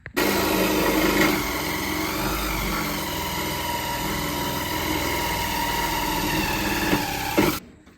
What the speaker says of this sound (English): I'm going to get my little handheld reciprocating saw and just cut the circle around it.